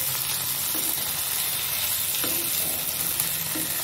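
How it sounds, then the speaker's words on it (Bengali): Spices frying in a little oil in a pan for an eggplant and tomato dish, stirred gently with a steady close sizzle and occasional soft scrapes of the spoon, no voices. "এবার এটার মধ্যে হালকা হালকা করে নেড়ে নেব, কারণ এই কাঁচা মশলার গন্ধটা পুরো চলে যাবে।"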